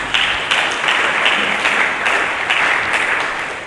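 A church congregation applauds during a sermon, dense steady clapping from many hands filling the room at moderate loudness throughout.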